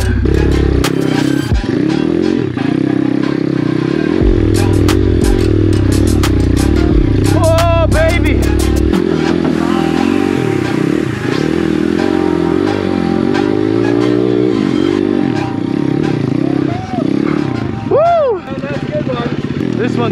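An Apollo RFZ dirt bike bought on Amazon strains up a steep, ledgy hill, its engine droning and revving loudly alongside clattering and scraping, with occasional voices.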